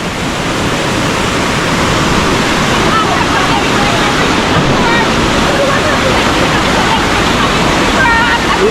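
A swollen river rushes down like a waterfall in a steady, loud roar of churning water that fills the whole stretch, with voices talking over it.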